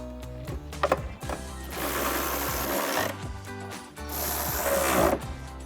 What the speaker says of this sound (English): grab our ratchet with our extension and 10mm socket.